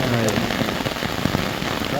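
Steady rain patters densely on surfaces nearby, a continuous close hiss with scattered sharper drops, and faint voices in the background.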